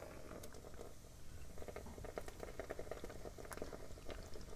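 Liquid poured from a can into a container, a faint, steady patter and gurgle heard close up for several seconds, without talking.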